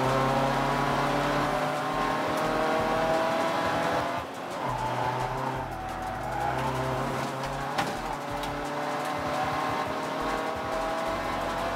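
A race car in a Roadsports race at Croft circuit roars across the finish line, a loud, continuous engine drone with tire noise throughout, swelling and easing slightly as it passes.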